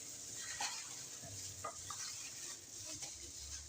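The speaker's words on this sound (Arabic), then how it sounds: "هبتدي بقى ادعك البصل بالبطاطس بالبهارات عشان كله كده يخش ايه مع بعضه" Onions being kneaded by hand with potatoes and spices for a baked potato tray, a soft continuous wet squishing and rustling with small sporadic squelches, close and quiet.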